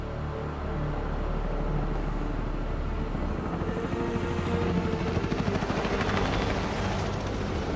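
Helicopter in the Call of Duty Modern Warfare video game, a loud, continuous rotor and engine roar that fills the whole clip with a steady chopping rumble.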